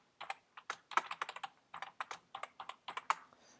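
Quick, light clicks of a computer keyboard as a password is typed, a close, quiet run of irregular keystrokes with a brief pause midway and no talking.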